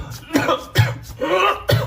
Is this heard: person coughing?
yes